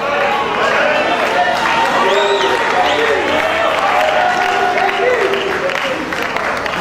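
A church conference crowd at a Protestant Reformation gathering bursts into sustained, loud applause and cheering, a dense roar of clapping and voices that holds steady throughout.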